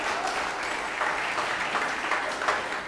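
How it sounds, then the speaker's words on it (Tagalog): Church congregation applauding for Jesus at a Sunday service, sustained full-room clapping from many people, even and crowded with small rises in intensity, no speech on top. "Yun the best pong palakpak para kay Jesus."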